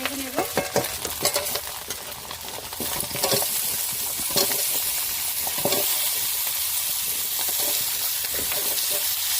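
Steady frying sizzle fills the clip, with sharp scraping and stirring clatter in the first few seconds, then a continuous close hiss of fish frying in a pan.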